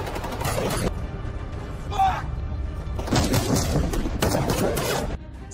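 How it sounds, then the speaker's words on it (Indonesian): Loud, rapid volleys of gunfire and heavy impacts ring out in short bursts during a factory gunfight in the 2024 action film 72 Hours, with brief pauses between volleys. "ia malah ketahuan oleh para anak buah Marco hingga baku tembak pun terjadi."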